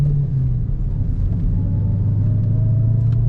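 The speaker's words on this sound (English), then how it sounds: "Got a really nice sound coming from that exhaust." A 2016 Dodge Challenger SRT Hellcat drives along with a deep, loud steady exhaust rumble and low engine drone from inside the cabin, pitch shifting slightly as it cruises.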